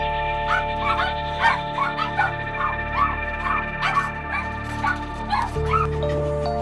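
Several dogs bark, yip and whimper repeatedly in a dark, enclosed puppy mill, the overlapping calls coming in uneven bursts over a steady low hum throughout.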